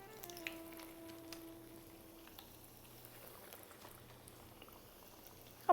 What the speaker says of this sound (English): And we'll keep adding more qatayef to fry in the oil.